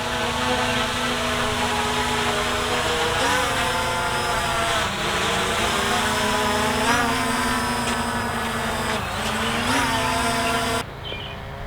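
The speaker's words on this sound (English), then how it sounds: "So I landed the drone." Budget camera drones, a Visuo Zen K1 and an SG906 Pro, drone steadily with a loud high propeller whine that wavers slightly in pitch before cutting off abruptly on landing.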